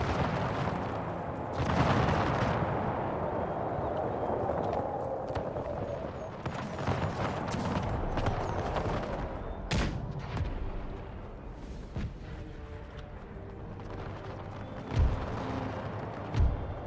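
Cannon and musket volleys from a battle in the strategy game Empire: Total War, with heavy booms and rolling crackles of fire at a distance and sharp reports later on, amid battlefield noise and a voice.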